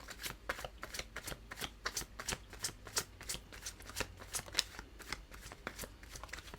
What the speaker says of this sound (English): And I'll do 3 shuffles